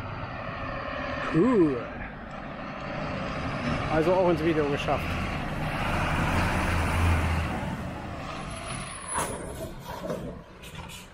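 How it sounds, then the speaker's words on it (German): A fire engine rolls past a caravan campsite on the North Sea coast, its engine rumble building and fading over about ten seconds beneath nearby conversation. "Und jetzt kommt die Feuerwehr hier vorbei."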